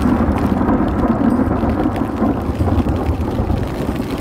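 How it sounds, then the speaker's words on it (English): Steady, dense rain pours continuously outdoors in a spring woodland pond setting, with a low rumbling of thunder and some wind buffeting beneath it, loud and unbroken throughout. "They need rain."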